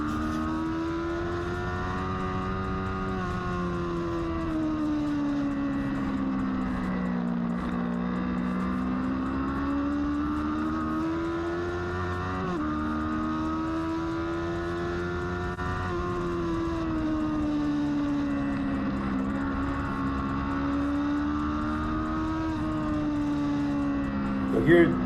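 Racing motorcycle engine held at full throttle on the NOLA track, a steady loud high-pitched drone with slowly rising and falling pitch throughout, with a voice talking over it.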